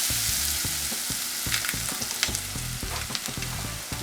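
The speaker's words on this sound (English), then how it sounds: "now that our oil is good and hot, we're going to pour it into our batter. That sizzle is what you want to hear." Hot oil hisses and sizzles loudly as it is poured into cornbread batter, a close, continuous frying crackle with small pops and clinks and no speech.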